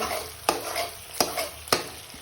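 Ground cashews stirred into frying masala for butter chicken, with three distinct spoon scrapes against the pan over a steady, close sizzle.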